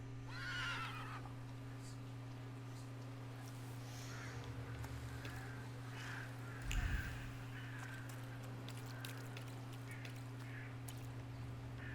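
A horse whinnies near the start in the video game The Thaumaturge, followed by softer snorts and scattered hoof sounds over a steady low hum, with a brief thump later and no one speaking.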